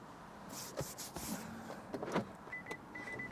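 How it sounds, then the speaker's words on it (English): A small electric motor adjusting a car's power mirror whirs quietly in short bursts inside a parked car, with faint cabin clicks and no speech. "I'm gonna turn the mirror up a little bit"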